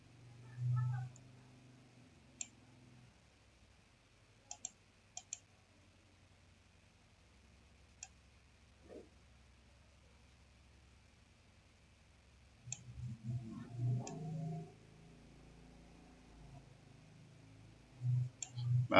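Faint, sparse mouse clicks while editing a photo in Photoshop, single sharp ticks spread across a quiet stretch, with occasional low murmurs and soft handling sounds near the end.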